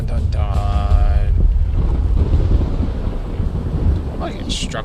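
Thunder from a thunderstorm in the video game Fallout 76 rumbles loudly and steadily with wind-like noise, and a voice is briefly heard early on.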